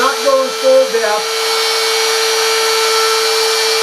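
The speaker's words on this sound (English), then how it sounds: "Then I'll go through and I'll kind of lift the router up, not going full depth" A wood router cuts western-style lettering into a workpiece, a steady, loud, high-pitched whine that holds evenly after a brief spoken voice at the start.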